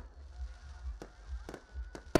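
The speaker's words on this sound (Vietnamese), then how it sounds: "tất cả các địa phương trong tỉnh đều tổ chức bắn pháo hoa" Distant fireworks thud and crack faintly over a low background rumble during a New Year festival display in Cẩm Phả, with a few sharp bursts spaced apart.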